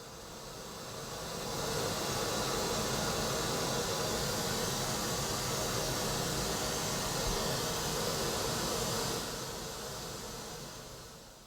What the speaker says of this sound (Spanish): volveremos a ver la señal de ruido rosa